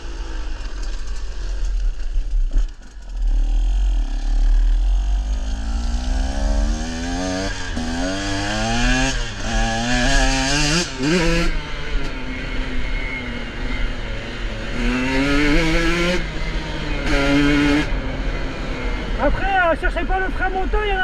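A 2024 KTM 125 XC-W two-stroke dirt bike on a test ride, its engine buzzing and rising repeatedly through revs and gears, close and loud, with a rider talking over it.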